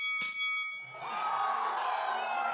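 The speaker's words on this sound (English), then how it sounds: "Well, ring the bell." A boxing-style bell in an animated show gives one bright metallic clang, and a loud crowd roar rises right after it and carries on to the end.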